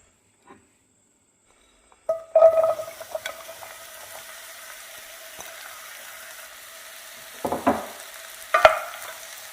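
Olive oil in a preheated pan for a creamy garlic mushroom sauce begins sizzling after a quiet start, with a steady soft frying hiss, a few stirring scrapes and louder bursts of sizzle near the end.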